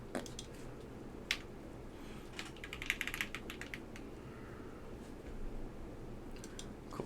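Typing on a Lin Works Dolphin Max full-size mechanical keyboard, a close run of quick clicky keystrokes in irregular bursts with short pauses between.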